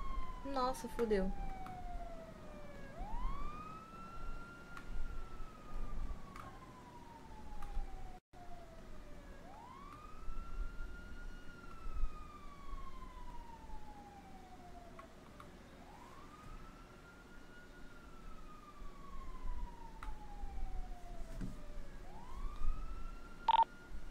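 A police car siren in a video game wails in slow rising and falling sweeps, repeating about four times at moderate volume, with a low engine rumble and occasional clicks underneath.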